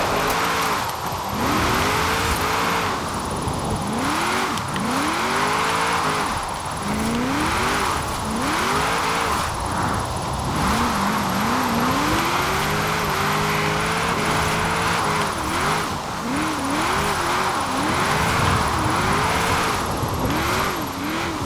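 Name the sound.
1994 Nissan Fairlady Z twin turbo drifting, video game Forza Horizon 4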